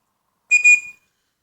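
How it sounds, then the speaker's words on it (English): A survival multi-whistle, part of a kit with a ferrocerium rod, gives one short, shrill blast lasting about half a second, close and clear in otherwise silent surroundings. "it's quite a good whistle, right?"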